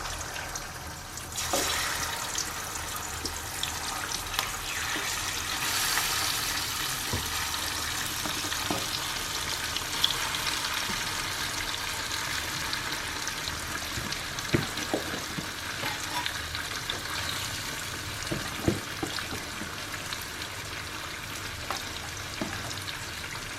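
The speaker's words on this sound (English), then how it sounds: "I'm going to fry it directly." Chicken pieces frying in hot oil for a chicken chukka, a steady bright sizzle with occasional stirring clatters and pops, close and continuous with no talking.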